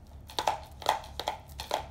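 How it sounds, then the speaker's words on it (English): A loose video game disc rattles inside its plastic case, four quick clattering bursts at a steady shake, close up with no voices. "That means the disc is going all over the place."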